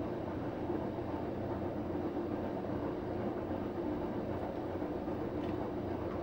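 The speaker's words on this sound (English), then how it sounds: "And the drum's spinning fairly quickly, but as you can tell it's hardly making any noise because it's got a direct drive motor" Samsung WF9904RWE direct-drive washing machine spinning its empty drum on an Eco Drum Clean cycle, a steady low rumbling hum that stays even and continuous throughout, with no voices.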